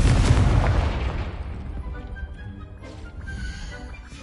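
The Confringo explosion spell in Hogwarts Legacy lands as a loud, deep blast at the start, its rumble fading gradually over several seconds into a low tail.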